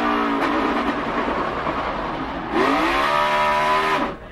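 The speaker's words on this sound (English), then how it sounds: "Now let's listen as he downshifts." A NASCAR Cup Series stock car engine at Sonoma Raceway roars loudly, its pitch dropping in steps as it downshifts, then surging briefly before cutting off abruptly.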